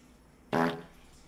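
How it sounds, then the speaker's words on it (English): A single loud, buzzy fart sound effect blurts out for about a quarter second over faint background hiss, then cuts off abruptly, with no one speaking. "I really wanted to fart on some stuff today"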